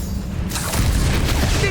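A Confringo fire spell in Hogwarts Legacy bursts into a sudden loud blast after a brief lull, then rolls on as a rumbling, crackling roar through the rest of the moment.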